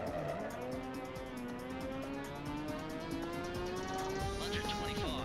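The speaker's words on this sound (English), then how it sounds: "Same engine sounds as Ridge Racer 7." A racing car engine in the video game R Racing Evolution revs high and steadily, its pitch climbing gradually before a sharp shift near the end, with tire squeal and gear-change sounds woven through.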